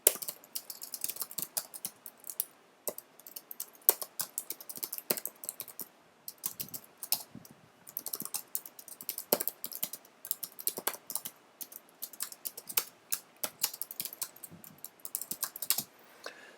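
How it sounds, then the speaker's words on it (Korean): Rapid, uneven clicking of keys on a computer keyboard as code is entered, close and clear, with bursts and brief pauses running throughout and no voices. "지난번과 마찬가지로 동영상 오른쪽에 있는 코드 입력창에 코드를 적어 보겠습니다."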